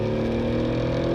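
Subaru Justy engine held at about 5,000 RPM, a steady, loud, droning rev with a constant pitch, close by and without voices.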